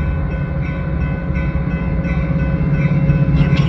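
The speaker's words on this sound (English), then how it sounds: "UP Northwest Main Line train number 651 to Harvard is now arriving." A Union Pacific Northwest Line commuter train arrives at the Harvard station with a loud, steady rumble of wheels and engine, a sustained low drone close by and no talk.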